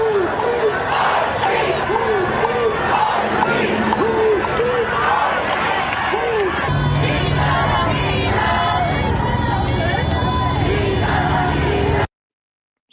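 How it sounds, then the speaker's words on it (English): Large crowd of protesters in downtown Los Angeles, a dense wash of chanting, shouting and overlapping voices continuing throughout, with the din shifting in character partway through. "There are pretty big crowds of protesters."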